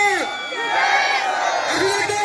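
A large crowd at an assembly election rally in Man-Khatav cheers and whoops together in a loud, sustained roar of many overlapping voices.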